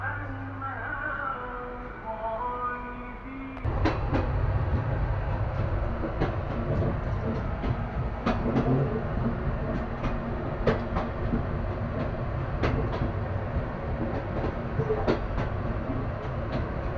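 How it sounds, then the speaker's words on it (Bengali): Heard from inside a chair-class coach, the Panchagarh Express crosses the Jamuna railway bridge. A quieter cabin hum gives way to a loud, steady rumble with regular metallic clickety-clack beats from the wheels. "তো আমরা পঞ্চগড় এক্সপ্রেসে যমুনা রেলওয়ে সেতু অতিক্রম করছি।"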